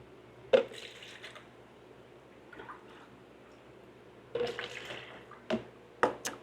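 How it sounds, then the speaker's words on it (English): A scoop of aged fresh water is poured into a container while fish are being prepared for shipping, heard as a few soft splashes and drips, the clearest near the end, over a quiet background. "So we're going to take this scoop and do 1 cup of aged fresh water."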